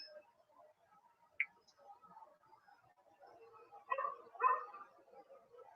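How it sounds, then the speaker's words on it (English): A dog barks a few times in the distance, faint at first and then a louder pair of barks near the end, over a quiet background. "I hear a dog."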